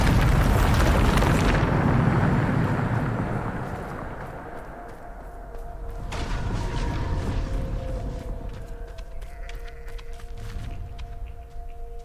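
A loud, sustained explosive boom from the Bombarda spell in Hogwarts Legacy opens with a roaring burst, then decays into a rumbling tail. A second, softer swell of rumble follows amid low game hums.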